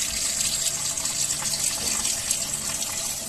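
Tap water gushes steadily and close as pork spare ribs are washed under it, a loud continuous splashing stream with no talking.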